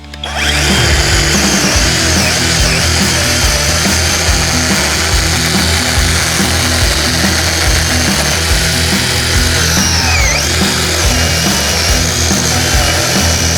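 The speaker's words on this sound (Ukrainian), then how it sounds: "І зараз буду випилювати колоду зсередини, наче заламуючи шину вгору." A Dnipro-M DCS-201BC cordless chainsaw cuts into a log from the inside with the bar tilted upward, its motor whining loudly and steadily under load for the whole stretch, close up with no talking.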